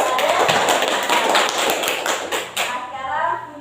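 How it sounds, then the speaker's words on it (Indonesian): A classroom breaks into a short burst of dense hand clapping that swells, then tapers off into scattered claps near the end. "jadi beri tepuk tangan untuk hasil dari Ade."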